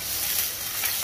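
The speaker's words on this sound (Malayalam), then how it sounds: "അത് ചൂടായതിനു ശേഷം അതിലേക്ക് നമ്മൾ എടുത്തു വെച്ചിരിക്കുന്ന ഇഞ്ചി, പച്ചമുളക്, സവാള, കറിവേപ്പില ഇതെല്ലാം ഇട്ട്" Ginger, green chili, onion and curry leaves sizzle in hot oil, a steady close hiss of frying over one second with no talking.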